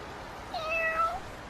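A single cat meows in an anime scene, a drawn-out rising and falling cry lasting about half a second, clear and close against a quiet background.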